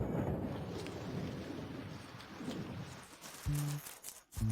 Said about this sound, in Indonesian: Hujan turun.